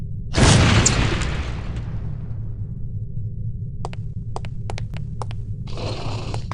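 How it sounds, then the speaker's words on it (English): An exploding lipstick explosive in the video game No One Lives Forever detonates with a single loud, sharp boom that decays into a low hum, followed by faint clicks and a soft burst of noise. "These relatively inconspicuous-looking lipsticks are actually powerful explosive devices that detonate on impact."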